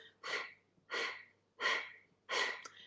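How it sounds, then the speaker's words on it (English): Four forceful nasal exhalations driven by the abdominal muscles, each a loud, breathy rush of air about half a second long, spaced evenly at roughly 0.7-second intervals with quiet gaps between. "forcing the air out of my nose, kind of making sure it runs up the back of my throat"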